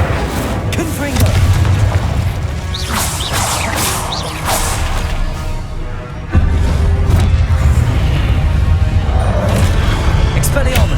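Confringo blasting spells in the game Hogwarts Legacy set off repeated booming explosions with whooshes and crashing thumps amid combat, loud and close, while a voice calls out spells over them.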